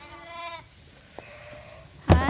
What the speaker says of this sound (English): And in the Suffolk pen, this is the younger lambs.